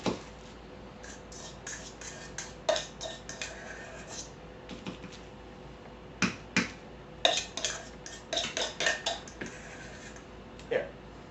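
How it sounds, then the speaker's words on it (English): A spoon scoops a soft mixture and drops it onto plastic wrap, producing a scattered series of light clicks, taps and crinkles, close but quiet, with faint talk in the background. "I take it and I spoon it out onto a piece of plastic wrap"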